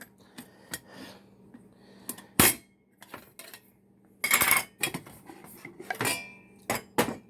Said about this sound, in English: We have a little Stanley pot. It's got 2 small cups in it and a lid.